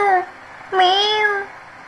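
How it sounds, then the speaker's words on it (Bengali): Two cats meowing near a kitchen where food is being cooked, a short close meow followed by a longer, louder drawn-out one, with no talk. "দুইটা বিলাই আইছে।"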